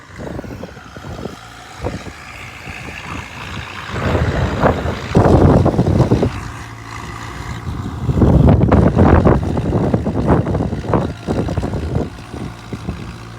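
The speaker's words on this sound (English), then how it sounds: "That poor tractor doesn't like fourth. Third gear is what he's running in" An Oliver Super 66 tractor discs a chunky field in third gear, its engine a steady loud drone that swells and eases, with heavy wind buffeting the microphone throughout.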